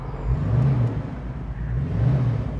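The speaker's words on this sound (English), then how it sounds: "Let's set our 71 Mustang down on the ground and see how this car drives." A 1971 Ford Mustang convertible's engine runs steadily at close range, a low, even rumble with slight swells in pitch and no talk over it.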